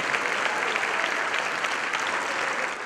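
At a stand-up comedy show, the crowd applauds for organ donors, a loud, uniform roar of clapping that lasts the whole moment without letup.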